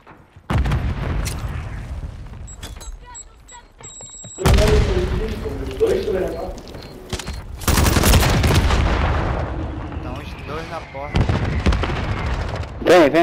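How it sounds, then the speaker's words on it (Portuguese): Heavy booms and bursts of gunfire in the Call of Duty video game, with a grenade explosion among them. Loud blasts land near 4.5 and 8 seconds over a busy battle bed, with lighter shots scattered throughout. "Vou jogar uma granada."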